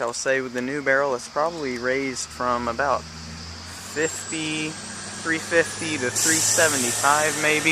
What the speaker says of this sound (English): So you can hear that bus going by.